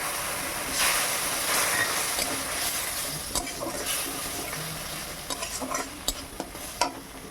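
Mustard and chili paste are stirred into a simmering tomato fish curry in a pan, giving a soft steady sizzle with repeated scraping stirs and clinks of the spoon, close and fairly quiet.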